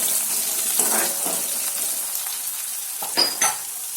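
Half an onion, thinly sliced lengthwise, sizzles steadily in hot oil with chilies in a pan for aloo gobi. Soft stirring and clinks of the pan sound over the frying.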